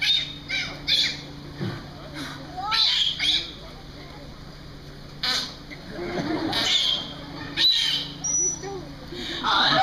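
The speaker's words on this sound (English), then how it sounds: "these dolphins are quite highly vocal" Aquarium dolphins Helen and Hannah give high squawking whistles and chirps in several loud bursts, some rising and falling, close by, with murmuring crowd sound between calls.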